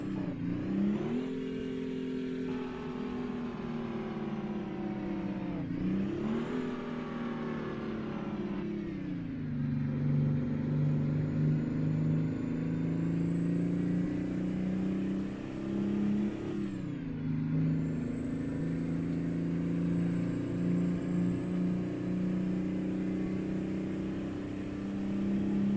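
Video-game Kenworth K100 cabover truck with a 500 horsepower two-stroke engine, droning steadily under load, with several shift dips where the pitch drops and climbs again through a long continuous pull.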